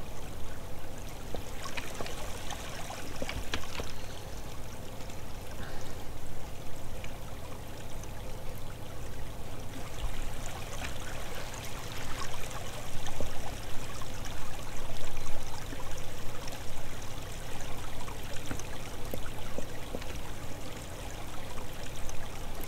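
Steady flowing water in the block-building game Minetest, a continuous broadband rush like a stream or trickle that holds an even level for the whole stretch, with no voices.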